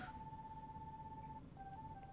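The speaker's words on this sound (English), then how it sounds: "Who phone that going off?" A phone rings in Kingdom Hearts 3 with a steady electronic tone that holds for over a second, pauses briefly, then chirps again in shorter beeps over quiet game ambience.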